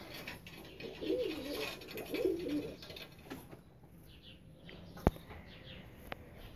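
Two soft pigeon coos sound close together early on, followed by quiet background with a couple of sharp clicks.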